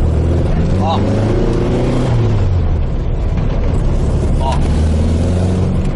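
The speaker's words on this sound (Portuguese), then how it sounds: "O limite pobre, ele dá uma pipocadinha e vai." A Volkswagen Beetle engine idling at its lean mixture limit runs with a loud, close, uneven chugging rumble, broken by a few brief pops, while someone talks over it.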